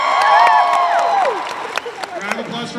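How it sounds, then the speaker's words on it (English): Convention panel audience clapping and cheering for Vision, short crowd applause with scattered individual claps following a musical flourish, with voices audible. "Round of applause for Vision."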